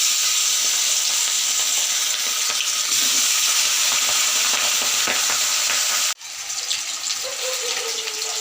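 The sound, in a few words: fish heads frying in a hot wok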